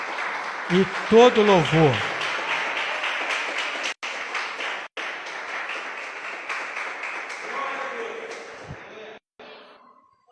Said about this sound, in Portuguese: Pode ficar de pé e aplaudir a Jesus